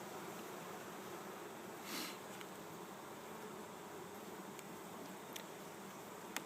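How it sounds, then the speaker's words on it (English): Honeybees buzz around a healthy hive in mid-October, a dense steady hum of many insects nearby with a few louder passes close by. "You got a good population of bees. They're still working here."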